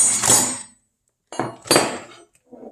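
Metal wrenches from a new Craftsman 79-piece 1/2-inch tool set clink as they are handled, a loud cluster of metallic knocks, then a pause, then two more bursts of clanking and a faint final tap.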